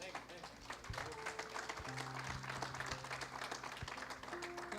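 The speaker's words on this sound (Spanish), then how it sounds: "¿Cuántos pueden dar un fuerte aplauso a Dios?" Church congregation applauding during a sermon, a sustained wash of many hands clapping at moderate distance, steady and fairly quiet, with faint voices mixed in.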